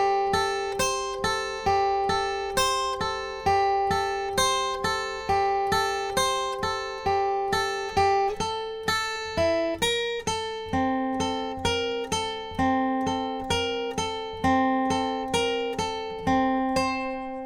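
Guitar lead part for a song played alone, a steady run of plucked single notes and ringing open strings in an even rhythm, close and clear, with no voices.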